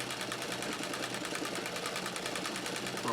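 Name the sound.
White rotary treadle sewing machine stitching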